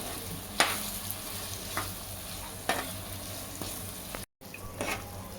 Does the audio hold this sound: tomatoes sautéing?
yes